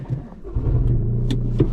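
Toyota GR Yaris GRMN engine pulling on a B-road drive, a loud, close, steady low rumble that rises as the car accelerates, heard alone without talk.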